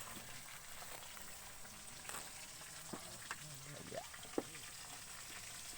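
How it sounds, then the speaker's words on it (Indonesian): Fresh-caught fish frying in a pan, a steady low sizzle with a few brief clinks and scrapes over it, and faint voices in the background. "Ku ayeuna mah rek dibawa ieu digoreng heula laukna cenah."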